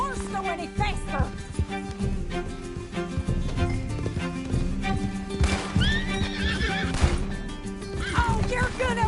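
In Red Dead Redemption 2, a horse gallops with rapid clip-clopping hooves and lets out several loud whinnies and neighs, all set within busy in-game action noise.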